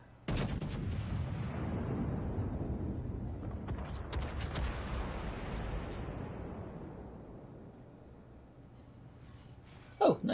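Battleship main guns fire in a naval warfare game, a heavy booming salvo followed by a long rolling rumble, then a second nearby blast and slow decay, ending with a brief sharp mechanical clack.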